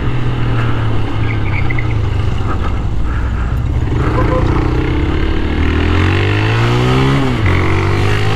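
A Honda Start 160 motorcycle engine runs steadily with a low, continuous drone, its pitch rising and dipping as it revs, close and loud throughout in a damp outdoor setting, with someone talking over it.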